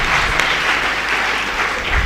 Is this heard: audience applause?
yes